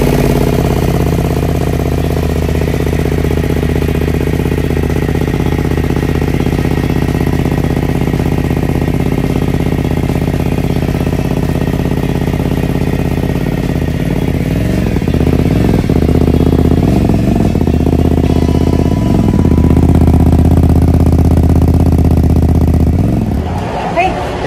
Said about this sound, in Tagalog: try naman natin start yung motor.